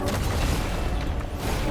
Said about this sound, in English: Now the giant explosions.